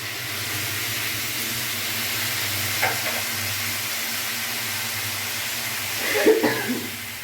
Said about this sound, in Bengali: ভালো করে আমি মশলার সাথে মিশিয়ে নেব